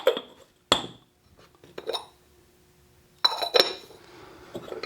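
Ceramic lids lifted off thrown pottery forms in a quiet room, giving a few sharp clinks and scrapes of glazed clay spaced out across the moment, loudest at the start and again near the end.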